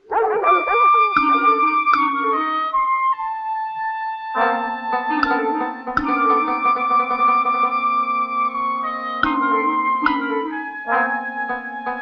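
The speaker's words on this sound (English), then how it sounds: "Them hounds got scent of something out there, all right." A pack of hounds bays and howls near a swamp at night. The sustained, wavering cries overlap continuously for the whole stretch, loud and close.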